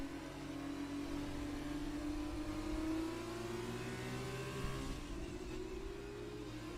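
A Formula 2 racing car engine in a video game, holding a high, steady whine that climbs slowly in pitch, smooth and continuous with no talking.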